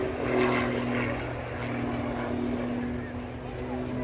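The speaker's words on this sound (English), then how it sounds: "There is an extremely powerful engine driving this Curtis Pitts along" A Pitts aerobatic plane's powerful engine and propeller drone steadily at an air show, a constant buzzing roar holding through the clip while a commentator speaks over it.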